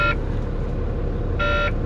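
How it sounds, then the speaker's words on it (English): Low air pressure warning buzzer in a semi truck cab, two short electronic buzzes, one at the start and one near the end, over a steady engine hum. "Anytime you're under 60 psi, the buzzer's going to go off."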